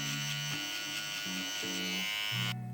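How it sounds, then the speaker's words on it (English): Electric hair trimmer buzzing steadily below the baseline of a haircut, a close, continuous motor drone whose pitch dips briefly several times as the blades press against the hair, then cuts off near the end. "I'm gonna use my trimmer that's not too sharp to clean up everything underneath the baseline."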